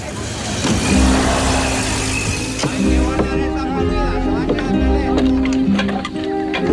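A car engine runs and pulls away at medium volume, a steady motor hum with some revving under a busy mix of other sounds and people talking.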